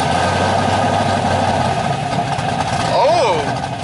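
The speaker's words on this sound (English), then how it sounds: "the owner of this Camaro is about to start it up for us" A Chevrolet Camaro at a Cars and Coffee meet running with a deep steady engine rumble close by, swelling briefly near the end, while a voice speaks over it.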